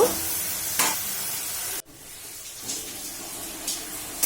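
Radish and bori curry being stirred in a pan as the liquid cooks down, giving steady close scraping and sizzling with a brief gap partway through and soft repeated stirring strokes.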